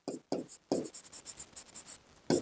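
Chalk or marker handwriting during a Hindi-language Class 9 maths lecture on quadrilaterals, short scratchy strokes in bursts with pauses between, close and fairly quiet, plus a few brief spoken syllables.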